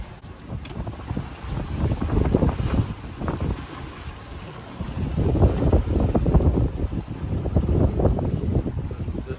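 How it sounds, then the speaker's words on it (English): Waves slosh and splash steadily against a sailboat hull on the open ocean, with gusty wind buffeting the microphone throughout. "Waves have picked up quite a bit."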